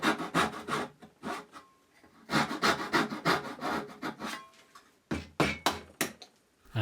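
Hand saw rasping through excess wood on a hinged wooden box in a series of cuts, close and fairly loud, with rapid rhythmic strokes in bursts separated by short pauses.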